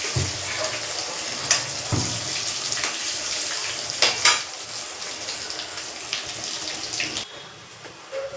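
Lentil fritters (bora) fry in white oil in a wok with a steady hiss and bubbling, broken by a few sharp clinks of a utensil against the pan, and no one talks.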